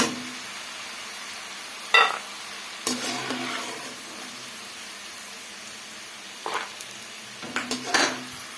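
Ingredients for puliogare fry in a pan, a soft background sizzle broken by several clattering stirs and utensil clinks against the cookware, with no talk.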